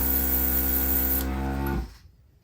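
A cheap, clogged airbrush is forced to build back pressure, giving a steady close hiss of air with an underlying hum that cuts off sharply near the end, leaving near silence.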